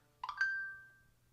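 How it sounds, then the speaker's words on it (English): A mobile phone gives a short electronic chime: two quick blips rising into a clear sustained tone that rings on and fades over about a second, nearby in a quiet room. "My phone's beeping."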